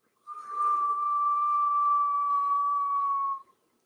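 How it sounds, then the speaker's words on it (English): A long, steady whistling inhale through puckered lips during Kundalini yoga breathing: a single clear tone held for about three seconds, close and fairly loud, starting and stopping abruptly. "pucker your lips and inhale deeply through the mouth while you're making a whistling noise."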